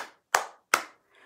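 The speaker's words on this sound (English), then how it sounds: "Clap your hands" Two sharp, crisp hand claps about 0.4 seconds apart, close and loud, during a live children's story time, with a fainter sound trailing after.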